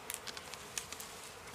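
Bees buzz around a honeycomb in the wild, a faint, steady drone picked out by a few brief louder passes close by, with no voices.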